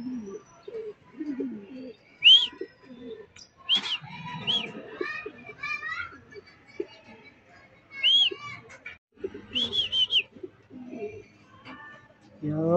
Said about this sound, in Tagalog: Pasok yung ating kalapate.